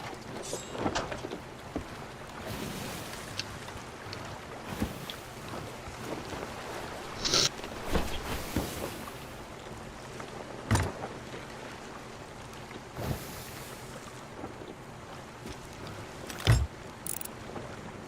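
A sailing ship at sea in the video game Sea of Thieves, with soft wind, gentle water wash against the hull and occasional creaks and knocks, fairly quiet throughout.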